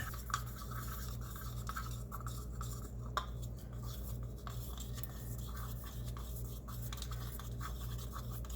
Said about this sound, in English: Now I'm going to take it, I'm going to mix it up really super well. I'm going to mix for at least a minute.